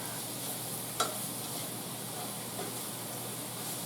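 Steak and boiled potatoes sauté in a pan with a faint, even hiss, broken once by a sharp clack of a utensil.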